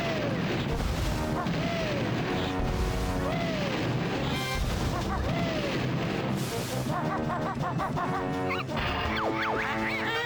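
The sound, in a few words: double mortar explosions in Banjo-Tooie video game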